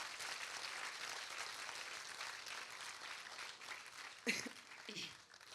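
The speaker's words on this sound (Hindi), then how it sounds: "आप लोगों को अच्छा लग रहा है तो एक बार तालियां बजाकर बताइए।" An audience at a Hindi comic poetry gathering claps in a sustained, fairly faint patter of applause that thins out toward the end, with a few louder bumps.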